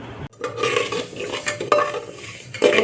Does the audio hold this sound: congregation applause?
no